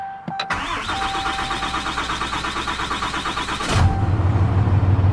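A 2019 Ram 3500 diesel pickup fitted with an S&S Diesel CP3 conversion kit cranks with a rapid rhythmic starter whir for several seconds, then catches and settles into a loud, steady low diesel idle.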